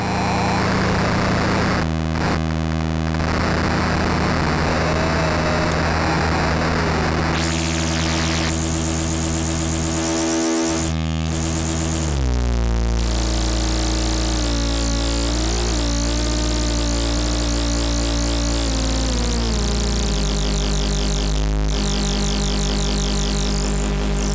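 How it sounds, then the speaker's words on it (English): A modular synthesizer drone at a workshop, loud and continuous, shifting from dense noisy textures to sustained buzzing tones with gliding pitch and abrupt timbre changes, running without pause and without talk. "interesting ways to make like drone sounds that are maybe not obvious on the panel, but are there"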